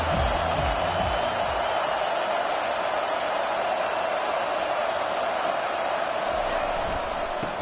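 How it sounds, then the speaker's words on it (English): A packed football stadium crowd in Iowa cheers loudly for the visiting team's arrival, a constant, roaring wash of noise with a few low thumps near the start and end. "This crowd bringing an ear-splitting welcome to their visitors."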